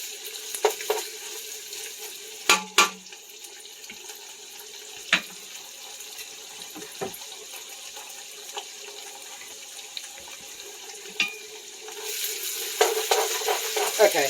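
Tomato paste fries in oil in a pot for vegetable beef soup, giving a low continuous sizzle broken by occasional sharp clinks and stirring scrapes, with a louder watery hiss building near the end.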